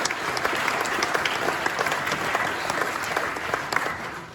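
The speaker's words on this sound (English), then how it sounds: "Can you give him a round of applause?" Dense, continuous audience applause with many overlapping claps, steady and fairly close throughout.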